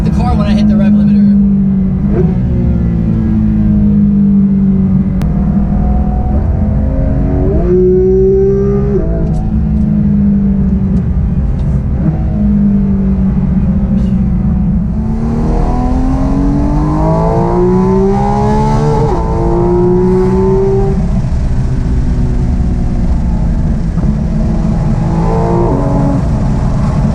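Engine of a 2019 Porsche GT3 RS revving up toward the rev limiter in repeated rising pulls, loud and close, with people talking over parts of it.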